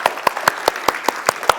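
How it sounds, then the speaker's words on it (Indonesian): Congregation at a Sunday church service clapping, heard as eight sharp, evenly spaced claps at a steady rhythm, fairly close and clear, like a few people clapping in unison rather than a full applauding crowd. "Ya, tepuk tangan."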